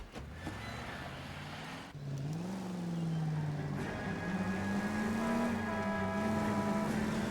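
Car engine in LA Noire revving and pulling away, a steady rising motor tone that climbs in pitch after a brief starter-like burst, loud and close with no talk over it.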